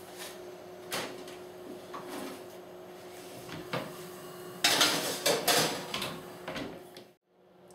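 An oven door is handled while garlic tear-and-share bread goes in, giving scattered clicks and a metallic clatter, then a louder burst of rattling and clunking before a sudden quiet and a final thud, all close by.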